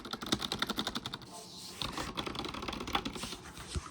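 Fingers tap quickly on a quiet membrane laptop-style keyboard like a ThinkPad's, a soft, rapid patter of muted keystrokes with brief pauses, close and fairly faint.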